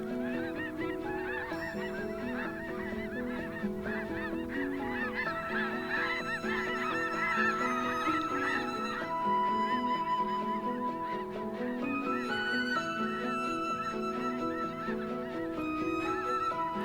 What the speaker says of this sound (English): the skies are once more filled with returning snow geese